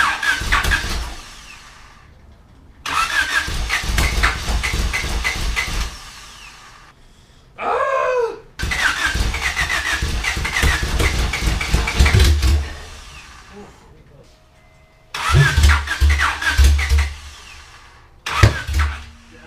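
A supercharged Honda Integra engine cranks and catches in bursts, roaring loudly up close for a few seconds, dying out, then firing again several times with rough, uneven running between stretches of near silence.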